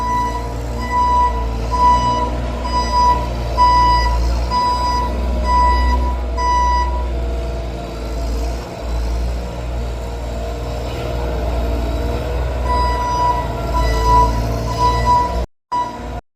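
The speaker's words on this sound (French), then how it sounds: "écoutez le bordel que ça fait, les travaux en pleine nuit" Night roadworks in France with a truck's reversing alarm beeping steadily and loudly over a constant heavy engine rumble, the beeps continuing through most of the stretch before a brief cut near the end.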